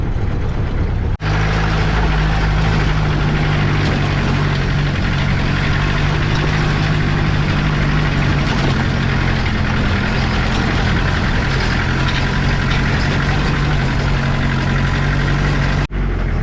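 A vehicle engine drones loud and close throughout as it leaves a paved road for a dirt track near a homestay in Mudigere, a steady rumbling hum with no talk over it.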